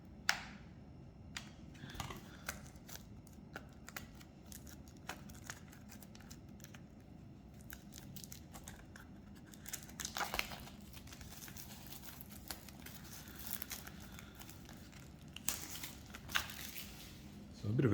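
Ruby dragon card sleeves are unwrapped and handled, giving soft, intermittent crinkles and small plastic snaps over a quiet background, with a louder rustle at the end.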